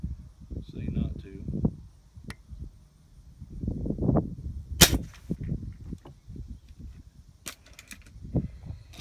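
A .177 caliber air rifle fires at a fidget spinner on a picnic table outdoors, sharp isolated snaps with a metallic ping from the hit, separated by quiet gaps and low rustling, with someone talking between shots.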